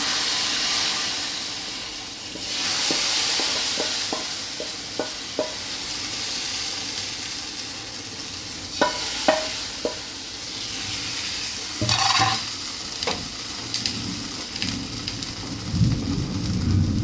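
Fried mustard seed tempering poured into a pot of chicken stew gives a steady, close sizzling hiss lasting the whole stretch, dotted with brief clinks and scrapes of a spoon against the pot.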